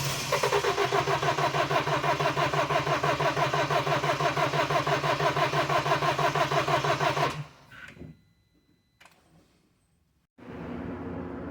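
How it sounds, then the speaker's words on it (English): A BMW X3 engine with its injectors unplugged cranks without catching, a rapid, even starter churn running loud and steady for about seven seconds before cutting off, then quiet with faint clicks and a later low hum. "I'm going to do a crank no start condition and try to get it cranking"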